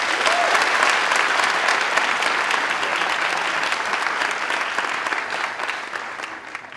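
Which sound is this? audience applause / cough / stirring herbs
audience applause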